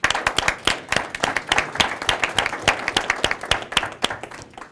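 Audience at a Morris County veterans services event clapping for veterans, close, sharp individual claps in a lively, uneven rhythm throughout.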